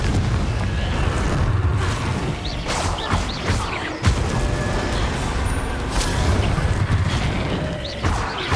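Repeated Confringo blasting spell explosions in the Hogwarts Legacy video game make a steady, loud rumble of booms and bursts with almost no pause between them.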